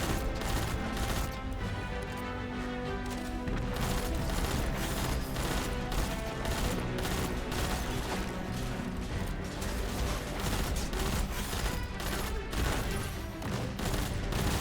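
Continuous gunfire from the shooter game Destiny as a player fires at an interceptor vehicle, with dense rapid shots and crashing impacts sustained throughout at steady loudness.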